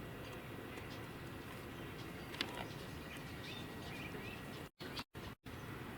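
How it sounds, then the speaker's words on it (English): A great crested flycatcher gives a brief call in an outdoor setting, faint and distant against a steady background hiss, with a few sharp dropouts near the end. "We're hearing the beep of the great-crested flycatcher"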